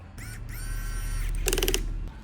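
A small electric screwdriver whirs in short bursts, tightening screws into a Samsung Galaxy S23 Ultra during a battery replacement. A brief higher rattling buzz follows, all close up with steady background hum and no talking.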